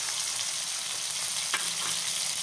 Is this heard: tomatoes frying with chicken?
yes